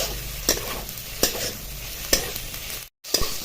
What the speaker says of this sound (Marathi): एक चार ते पाच पर मिनटं परतवल्यानंतर ना आपले हे मसाल्याचे जे इन्ग्रेडियंट्स आहेत ते परतून झाले